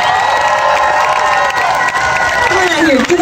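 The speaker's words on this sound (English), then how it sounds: "everybody hold your warmest round of applause for the newest member of our band" A festival crowd at an outdoor Riot Fest show cheers and applauds loudly and steadily, with scattered shouts rising above the roar throughout.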